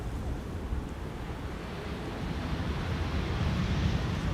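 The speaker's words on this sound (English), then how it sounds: "Wind is definitely picking up every now and then" Wind blows across the Schiphol airport runway as a steady, close rush of broadband noise, swelling a little stronger toward the end with no talking.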